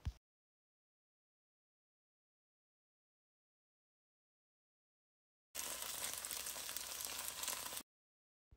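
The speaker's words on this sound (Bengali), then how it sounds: "টোফুকে এই সাইডেও গোল্ডেন ব্রাউন করে ভেজে নিব" Tofu slices frying until golden brown in an oiled pan for a Thai red curry, giving a steady sizzle that starts abruptly after a long silence, runs about two seconds, then stops.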